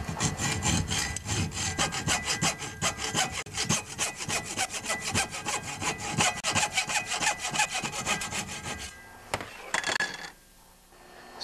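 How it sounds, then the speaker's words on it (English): A hacksaw cuts into an old ignition condenser clamped in a vise, making rapid, steady back-and-forth rasping strokes up close and loud, stopping near the end with a couple of clanks. "Next, I'm going to run my hacksaw to it."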